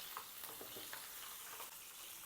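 Chopped green chillies fry in hot oil for an ivy gourd fry, giving a steady, bright sizzle with small crackles and pops throughout, alone and at moderate volume.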